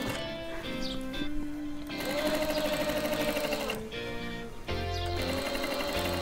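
A sewing machine stitching thread piping onto cloth, running in a quick steady mechanical patter for several seconds with brief changes in pace, close and clear, while music plays in the background.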